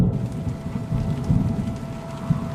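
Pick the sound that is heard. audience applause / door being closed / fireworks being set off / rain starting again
rain starting again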